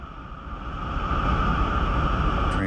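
A Union Pacific freight train cresting the summit on Cajon Pass, Mojave Subdivision, California, heard from inside the cab as a steady loud rumble and drone that builds slightly, with a faint click near the end.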